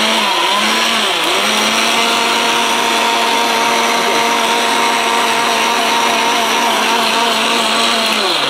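A blender grinds ginger, garlic and onion into a paste, a loud, steady, high-pitched motor whine running continuously close up, with a slight stutter in pitch in the first second or so.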